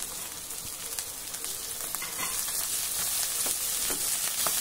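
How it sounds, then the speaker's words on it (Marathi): Chopped chivai leafy greens with turmeric, asafoetida and red chili powder land in hot oil in a pan and sizzle steadily, with a close, bright frying hiss that grows slightly louder and is broken by occasional stirring clicks. "थोडी हळद घालूया, चवीनुसार लाल तिखट आणि ही धुवून कापलेली चिवईची भाजी घालू।"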